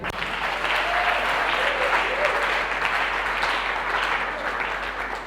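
A church congregation at a community seminar breaks into loud, dense applause and acclaim that holds steady and close for the whole stretch.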